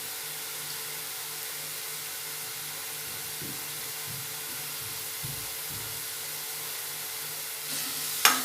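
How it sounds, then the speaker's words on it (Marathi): Masala frying in oil in a pan for stuffed brinjal, with a steady soft sizzle and occasional stirring scrapes throughout, and a brief sharper clatter near the end. "मसाल्याला तेल सुटेपर्यंत परतवून घ्यायचा।"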